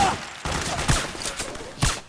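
Gunfire in Metal Gear Solid 4: Guns of the Patriots, a few sharp, close shots and short bursts spaced irregularly over low background noise.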